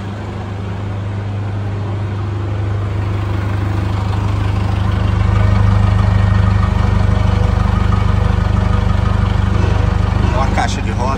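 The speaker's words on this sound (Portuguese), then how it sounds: "Desse motor é inconfundível." A 1996 Chevrolet D20 Custom pickup's engine idles steadily up close with a low, even hum, swelling slightly louder midway through, with no talk over it.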